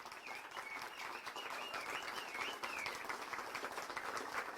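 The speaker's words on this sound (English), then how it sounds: "give her a round of applause." Faint, continuous clapping from a crowd, a soft even patter of many hands held for several seconds with no voices over it.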